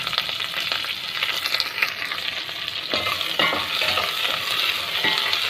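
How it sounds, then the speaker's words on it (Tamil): Chopped onions and green chillies sautéing in oil for village-style fish curry, a close, steady sizzle with scraping stir strokes in the second half. "இதோட வெங்காயம், வெட்டி வச்சுருக்க வெங்காயம், பச்சை மிளகாய், இது எல்லாத்தையும் போட்டு நல்லா வதக்கிடலாம்."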